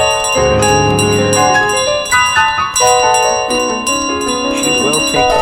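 A bell in Untitled Goose Game rings out repeatedly in bright, sustained tones, loud and close, mixed with game music and no talk.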